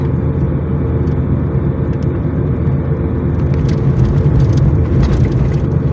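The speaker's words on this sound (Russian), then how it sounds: "Машины ездят." Cars drive along a road in a continuous, loud rumble of traffic and engine noise heard from a moving vehicle, with steady road roar and slight rises as vehicles pass.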